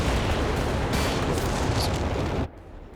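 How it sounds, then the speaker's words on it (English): Walking Stuka artillery barrage in Company of Heroes 3: a dense, loud roar of overlapping blasts that rumbles continuously, then cuts off abruptly near the end. "Bad walking Stuka barrage."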